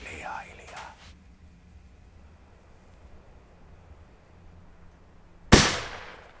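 One loud, sharp gunshot fired to shoot a calf rings out after several seconds of quiet outdoor ambience, its echo decaying quickly; a voice speaks briefly at the start.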